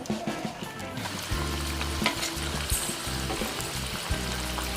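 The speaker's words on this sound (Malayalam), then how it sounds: "ഇനി അതിലേക്ക് കുറച്ചായിട്ട് ചിക്കൻ്റെ മിക്സ് ചെയ്ത പീസ് ഇട്ടെടുക്കുക." Marinated chicken pieces dropped into hot oil in a pan, a steady close sizzle and crackle that swells as the pieces go in and keeps bubbling, with no voices.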